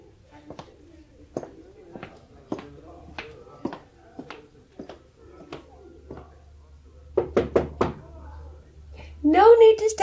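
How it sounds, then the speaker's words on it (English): Knocking on a door in an old-time radio thriller drama: a steady series of single sharp raps, then a louder quick cluster of knocks, followed by a voice beginning to speak at the end. "No need to stand knocking,"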